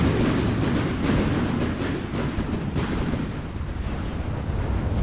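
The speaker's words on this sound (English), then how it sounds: "this thing is tanking pretty well against heat shells" HEAT shells strike an armored vessel in the naval combat game From the Depths, a dense, continuous barrage of booming impacts and crackling bursts that stays loud throughout without talking.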